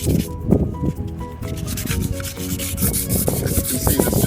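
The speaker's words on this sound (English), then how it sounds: "this just scuffs the paint up just slightly to allow better adhesion" Painted surface rubbed down and scuffed by hand before applying an anti-slip coating, a close, continuous scratchy rubbing with faint tonal squeaks, steady throughout.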